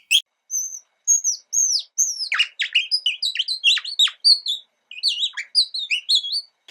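A handmade nightingale bird call, worked without blowing, gives off a rapid, bright run of high warbling chirps and trills, close and clear against silence, closely imitating birdsong.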